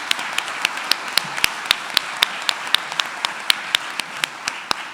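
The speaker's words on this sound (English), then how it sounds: "Let's give them all a round of applause." Audience at an annual gala clapping in a steady, fairly sparse rhythm, individual claps distinct and moderately loud over a light room murmur.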